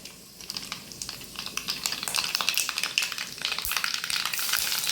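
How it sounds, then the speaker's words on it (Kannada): Mustard seeds crackle and spit in hot oil in a pan for a tempering, a dense run of sharp pops over a steady sizzle that grows louder and busier toward the end, close by with no talking. "ಒಗ್ಗರಣೆಗೆ ನಾನು ಬಾಣಲೆಗೆ ಇಷ್ಟು ಎಣ್ಣೆ ಹಾಕಿದ್ದೇನೆ, ಇದಕ್ಕೆ ನಾನು ಇಷ್ಟು ಸಾಸಿವೆ ಹಾಕ್ತಿದ್ದೇನೆ"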